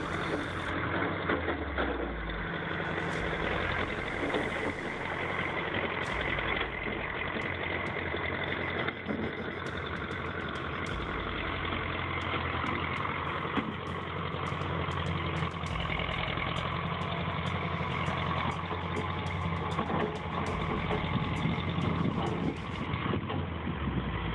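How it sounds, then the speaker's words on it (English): A bulldozer pushing slowly through deep snow in a blinding snowstorm, its heavy diesel engine droning steadily with clanking and rattling over a broadband wind-like roar. "the bulldozer moves forward slowly, unshaken by the elements"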